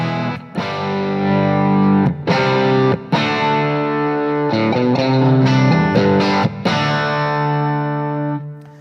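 Distorted electric guitar played through a BluBOX amp with the master level set at 2, sustained saturated chords and ringing notes with a few brief pauses between strums, loud and alone.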